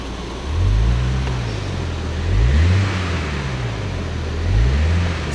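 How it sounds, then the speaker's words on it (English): Synthesised engine noise from a MINI Countryman Cooper S ALL4 in sport mode, heard inside the cabin as a steady low drone that rises and falls in three smooth revving swells. "actually bring a little bit of synthesised engine noise into the cabin as well"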